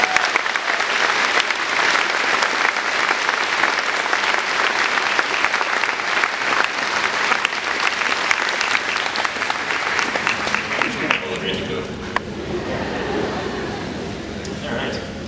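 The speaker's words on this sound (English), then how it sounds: "Can I have a sincere round of applause for our biggest supporters," Sustained audience applause at a valedictorian graduation ceremony, dense clapping from a large crowd honouring teachers and parents, steady and loud throughout before thinning out toward the end.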